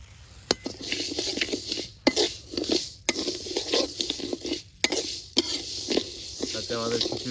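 Black gram and mung lentils are dry-fried in a pan, giving a light sizzle broken by frequent scraping stirs and sharp utensil clinks against the metal, close and without speech.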